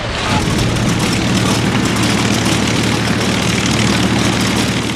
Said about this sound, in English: amphibious landings supported by aircraft flying from carriers